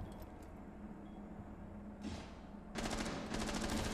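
Gunfire in the tactical shooter Rainbow Six Siege, a short burst of rapid shots starting late, fairly close and loud over a low steady game background hum.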